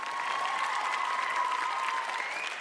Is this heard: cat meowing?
no